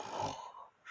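A voice imitates a dog snoring during a children's story: one short, breathy, rasping snore that fades, with a faint hiss at the end.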